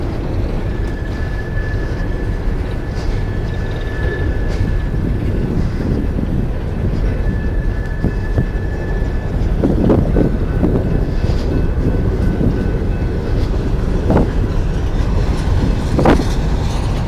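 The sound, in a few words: long coal train passing, Mount Hope, West Virginia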